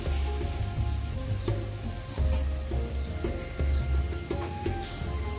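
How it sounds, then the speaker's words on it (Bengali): Onions sizzle steadily in hot oil left over from frying fish, with a close, continuous crackle broken by small pops and scraping stirs. "মাছ ভোনার জন্য পেঁয়াজটা দিয়ে দিয়েছি তেলের মধ্যে, যেই তেলে আমি মাছ ভেজেছি সেই তেলেই"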